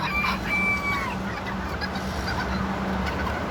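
Bantam chicks cluck and peep in a few short bursts over a steady low hum, close by.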